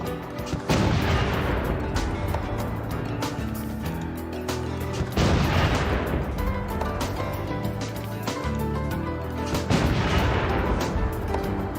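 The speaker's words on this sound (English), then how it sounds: "let's bombard this" Artillery bombardment in Civilization III Conquests, a Pacific scenario: three heavy booming volleys spaced a few seconds apart, each a loud burst of gunfire that decays into a rumbling tail, with no talking.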